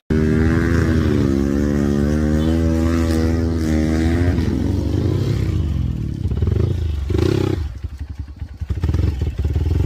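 A motorcycle grinds up a steep, muddy uphill track, its engine loud and close with a steady, straining drone that wavers and sputters near the end as the rider fights for grip.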